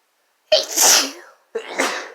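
Two loud sneezes in quick succession, each a sharp close burst that fades out, with a short silent gap between them.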